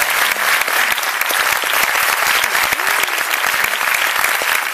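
Loud, sustained audience applause after a post-screening debate on the film Inch'Allah, a thick continuous clapping that fills the room without letting up.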